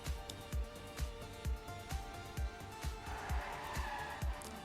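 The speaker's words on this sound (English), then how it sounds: "Morris 89 overtaking Demon now over the stretch, going up to second place." Race cars in a racing video game's Canadian Grand Prix: a steady, layered engine drone with regular rhythmic pulses and occasional tire squeal, fairly faint and heard without talk.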